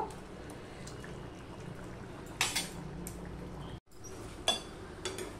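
A metal lid clanks onto a pan of Bata fish and vegetable curry, giving a couple of sharp nearby clatters with a brief dip to silence between them, over a low simmering background.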